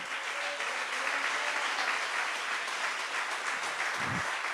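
A church congregation applauds steadily throughout, a dense wash of many hands clapping in a reverberant worship space, sustained and fairly loud with no pauses.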